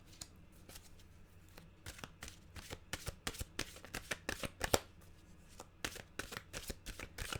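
A deck of mantra cards is shuffled close up, producing quick bursts of crisp riffling and flicking in an irregular rhythm, fairly quiet with no voices.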